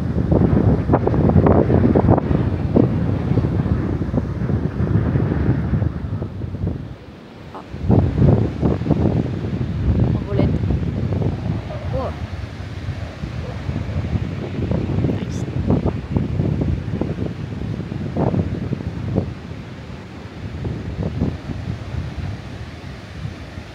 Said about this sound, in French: Il y a déjà du vent ultra froid